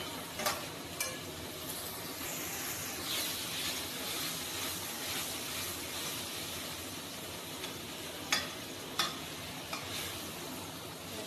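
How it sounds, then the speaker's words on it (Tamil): Chicken biryani ingredients sauté in a pan with a steady, close sizzle and fry, punctuated by a few sharp scraping knocks of a spoon stirring against the pan. "நல்லா வதக்கி விட்டுருங்க. நல்லா வதங்கினதுக்கப்புறம் தக்காளியை சேர்த்துக்கலாம்."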